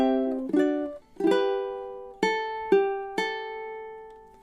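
A ukulele plays measure 5 of a song, a few plucked notes and chords ringing out one after another in a slow, clear rhythm, close and alone.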